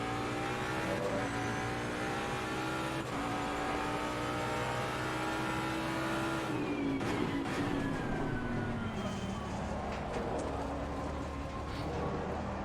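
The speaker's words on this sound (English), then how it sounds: "That Lambo is on my tail." Lamborghini race car engine in the Assetto Corsa Competizione sim roars steadily, with rising and falling revs through gear changes and a second car close behind, loud throughout.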